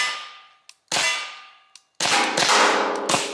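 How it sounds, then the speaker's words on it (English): A TCP pepper ball launcher fires at targets outdoors: sharp metallic clangs and pops ring out and decay, a couple of short cracks between them, then a dense burst of overlapping impacts. "But we're gonna shoot a few of them at our targets here and see what they do."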